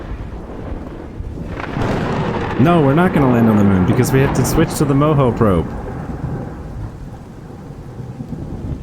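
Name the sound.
thunderstorm with rain in video game Kerbal Space Program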